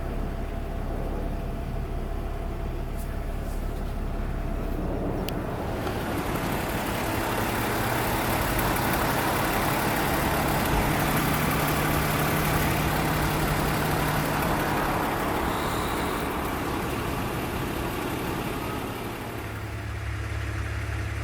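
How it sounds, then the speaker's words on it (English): A BMW E46 engine idles after a camshaft tray swap, the car hot from a short drive: a steady, even low rumble with a smooth, continuous hum and no talk over it. "Engine is a lot smoother."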